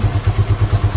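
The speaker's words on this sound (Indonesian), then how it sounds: "Yang cek ini suara injektor ya" Honda Supra X 125 FI motorcycle engine idling with its fuel injector ticking, a close, loud, rapid even pulsing of about eight beats in one second.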